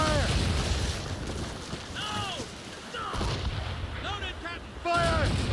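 Ship cannons in Assassin's Creed Rogue fire in a run of heavy booms, several shots spaced a second or so apart over a rumbling battle background, with brief whooshing projectile sounds between them.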